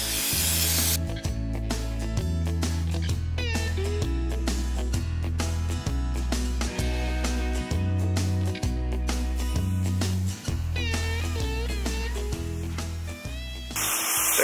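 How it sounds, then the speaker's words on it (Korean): Parts cleaner sprayed onto a grimy BMW 520d engine part during a timing-chain repair, with hissing spray bursts heard mostly at the start and end under steady background music. "뿌리고 나서 파트 클리너를 뿌려서 이 때들을 닦아줘야 돼요"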